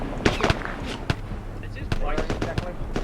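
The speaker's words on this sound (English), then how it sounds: "Mortars incoming. Get your heads down." Mortar rounds explode in a military video game, a series of sharp, booming impacts at irregular intervals mixed with other battlefield noise.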